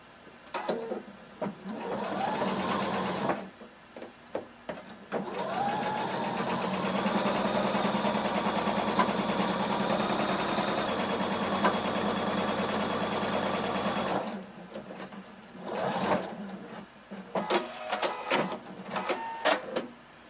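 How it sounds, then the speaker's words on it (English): A sewing machine runs a 5/8-inch seam on a fringe kimono, humming in two sustained whirring bursts, one short and one long, separated by pauses with faint handling clicks around them, close and clear. "we're going to sew using 5/8 of an inch seam allowance"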